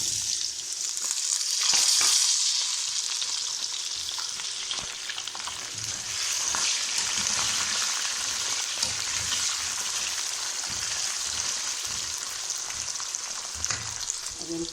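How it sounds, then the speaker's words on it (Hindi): Potatoes fry in hot oil with a steady, fairly soft sizzle and crackle throughout, a brief louder burst of spitting early on, and no talk. "अब आलू भी फ्राई हो चुके हैं"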